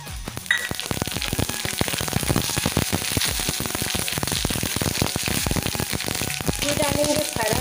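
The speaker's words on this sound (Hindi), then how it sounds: "तेल है गरम हो गए, सूखा मिर्च और मीठा लीम डालेंगे। चम्मच चला देंगे। अब डालेंगे तिली ला" Sesame seeds, dried red chillies and curry leaves crackle and sizzle in hot oil, a dense, loud, close frying with rapid popping throughout while a spoon stirs the tempering for Chhattisgarhi fara.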